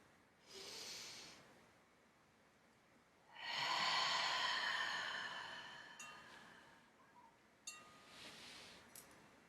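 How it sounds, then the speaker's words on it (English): Long, slow breaths out during a restorative yoga practice, soft breathy hisses that swell and trail off, the longest lasting several seconds, close and quiet with a few faint clicks between them. "maybe now we take a more effortless version of that by simply taking a long, slow breath out"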